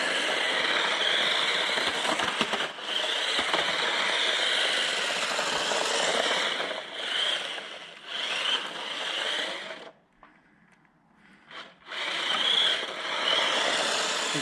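Electric motor of a JJRC Q123 1/16-scale 2.4GHz RC drift truck whining steadily at high pitch, cutting out and going briefly quiet near the end before it resumes just as loud.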